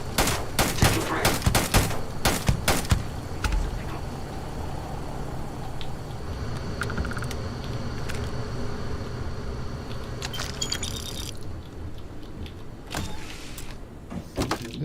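Gunfire in the Starfield video game: a rapid burst of sharp, close shots, then scattered cracks and clicks over a steady hum of machinery and effects, with more sporadic shots near the end.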